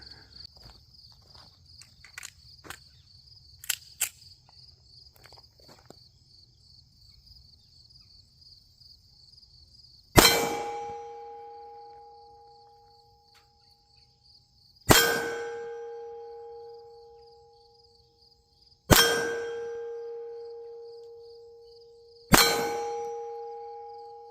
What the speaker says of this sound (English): I'm going to get it zeroed for him on my gong there, and then we'll knock some of these pins down